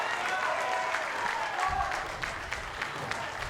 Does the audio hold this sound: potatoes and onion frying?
no